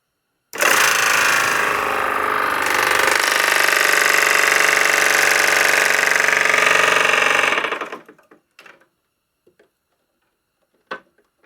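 A Fogatti RV furnace blower runs loudly and steadily for about seven seconds with a broad, whooshing hum and faint mechanical ticking, then shuts off, leaving a few light clicks and taps.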